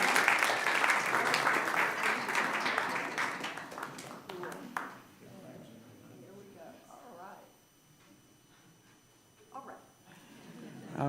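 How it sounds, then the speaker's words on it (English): Church audience applauding at a Sunday gathering, loud clapping filling the first few seconds then fading into scattered claps and murmuring voices, with a brief burst of clapping near the end. "And how about another round of applause?"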